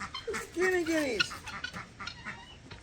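Guinea fowl call in a short burst of harsh, rising and falling cries at close range, with a few fainter clucks and squawks trailing after.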